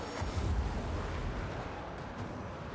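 Artillery fire in a Total War: Warhammer 2 battle makes a steady, dense rumble of distant blasts and bursts, held at an even level for a few seconds.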